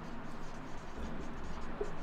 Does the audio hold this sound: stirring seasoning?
no